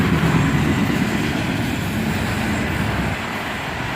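A freight train led by an ET44AH locomotive rolls past close by with a cut of automobile frames, a loud continuous low rumble of wheels on rails.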